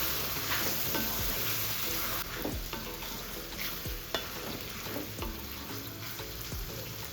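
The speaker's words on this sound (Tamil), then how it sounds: "இப்போ நம்ம இதிலே குடலை சேர்த்துக்கலாம் சேர்த்து நல்லா வதக்கி விட்டுட்டு அப்புறமா மசாலா சேர்த்துக்கலாம்" Goat intestines sautéed in a pan for a home-style kudal kuzhambu, a steady close sizzle broken by repeated scraping stirs of a spoon against the metal, loud throughout with no talking.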